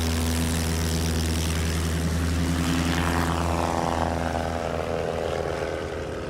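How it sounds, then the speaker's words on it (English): A STOL aircraft at a short-takeoff competition in Gallatin, Tennessee, roars through its takeoff run. The engine and propeller drone is loud and steady, then fades slightly as the plane climbs away. "The takeoff for David Warren is 138 feet"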